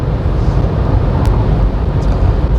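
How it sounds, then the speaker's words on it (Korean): Steady, loud rushing wind roar with a deep low rumble, continuous throughout, buffeting the windshield of a Mercedes-Benz GLA 220 at high speed, no talking. "앞창에 부딪힌 바람 소리가 제법 들립니다"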